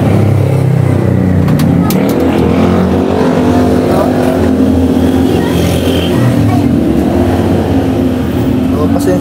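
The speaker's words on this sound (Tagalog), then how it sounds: "medyo maingay dito, bata, mga dumadaan ng motor" Motorcycles roar past continuously near a workshop where a Yamaha Aerox scooter is being worked on, a loud steady engine drone with a person talking over it.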